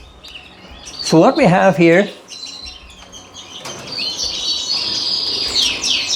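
Red variegated canaries, an intensive cockbird and a non-intensive hen with three young, chirp and twitter in a birdroom breeding cage, a bright continuous bird chatter building through the second half, with someone talking briefly near the start.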